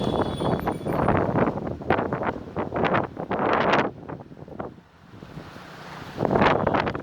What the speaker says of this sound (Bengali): কি বাতাস!